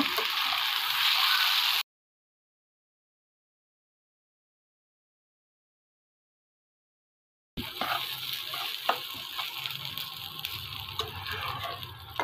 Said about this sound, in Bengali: এবার আমি ভালোভাবে মাংসের সাথে চালের সাথে ভালোভাবে মিক্স করে দেব।